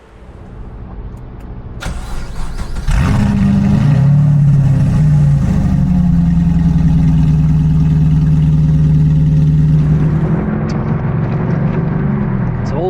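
A Sportmotive TVR Griffith evolution chassis with an LS3 V8 turns over and fires into a loud, deep, close idle. The engine holds a steady rumble with slight revs, then pulls away as the tone shifts near the end.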